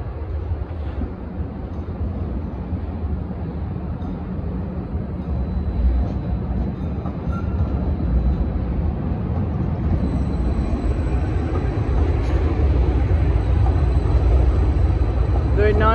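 SD160 Series 5/6 light rail cars pass the 9th Street switch with a steady low rumble and rolling rail noise that builds and holds throughout, fairly close, with no talk over it.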